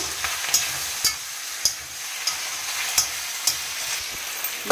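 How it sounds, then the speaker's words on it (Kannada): Pepper potato fry sizzles in a pan while being stirred, with a steady frying hiss broken by regular sharp scraping and clinking strokes about every half second to second. "ಅವಾಗವಾಗ ತೆಗೆದು ಈ ಥರ ಮಿಕ್ಸ್ ಮಾಡ್ತಾನೆ ಇರಿ"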